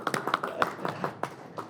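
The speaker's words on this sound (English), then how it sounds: "Round of applause." A small round of applause at a city council meeting, several people clapping unevenly for under two seconds, fairly quiet and slightly distant in the chamber.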